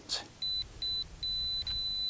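A drone controller app sounds its connection signal: four short, high, clear beeps in an even rhythm, close and fairly loud, with no talking.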